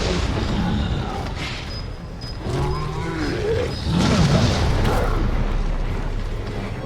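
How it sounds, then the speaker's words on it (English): A deep, rumbling boom rolls through a Resident Evil 7 game scene, with growling creature roars and mechanical noise building into a sustained, loud blast. "Watch out for explosion."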